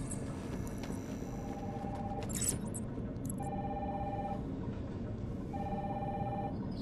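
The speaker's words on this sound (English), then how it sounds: "Phone is ringing here?" A telephone in the video game Batman: Arkham Asylum rings three times at even intervals. Each ring is a steady electronic tone over a dense game ambience, with a brief noisy burst between the first and second rings.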